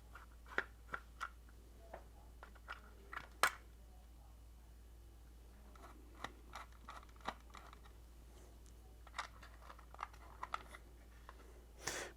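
Two screws holding a refrigerator's circuit board are undone, giving sparse, faint clicks and ticks of a screwdriver at irregular intervals over a quiet background.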